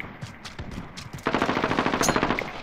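Rapid automatic gunfire in Call of Duty: Modern Warfare: after a muffled, busy opening, a loud, sustained burst of evenly spaced shots rattles close by until the end, with no talking.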